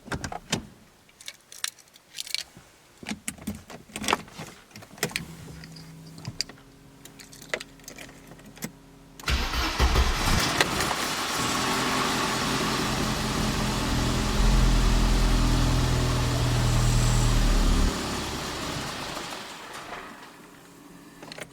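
A Mercedes W124 starts up after its fuel injectors were cleaned, with a burst of cranking that settles into a steady, fairly loud idle rumble, after earlier clattering and handling noises.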